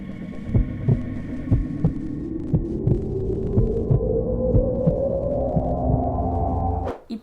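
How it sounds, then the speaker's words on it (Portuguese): A heartbeat sound effect added during video editing pulses in an even, low, thumping rhythm of roughly twenty beats over a steady hum that slowly rises in pitch, then cuts off abruptly at the end. "a gente colocar um efeito sonoro de batimento cardíaco"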